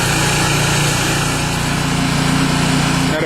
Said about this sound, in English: Cheap little generator project.